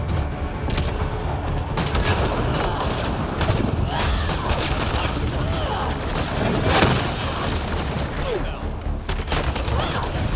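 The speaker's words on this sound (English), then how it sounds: "Launch the grenade!" A grenade launch and gunfire in the Mass Effect Andromeda video game, with dense continuous shooting, booms and crashes filling the whole stretch, loud and busy from start to finish.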